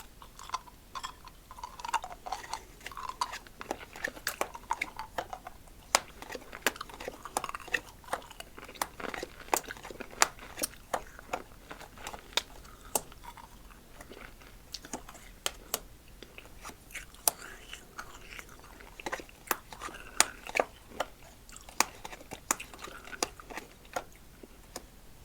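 Crunchy freeze-dried candy is chewed close to the microphone, a long run of brittle crunches and bites with a steady uneven rhythm, under occasional soft speech.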